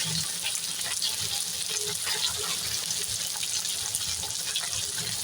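Tomatoes fry in a pan for chicken korma, a soft continuous sizzle and watery hiss close by with faint stirring clinks, steady throughout, with no one talking.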